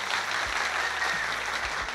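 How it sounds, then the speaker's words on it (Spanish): A crowd at a baseball tribute to the three Alou brothers applauds in a continuous, even wash of clapping with no voices on top. "Un aplauso para la trilogía de los Alou"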